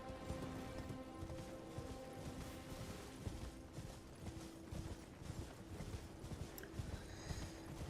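A horse's hooves clip-clop steadily in a video game, a continuous rhythmic trotting patter at moderate distance, quiet under a faint background with no talk.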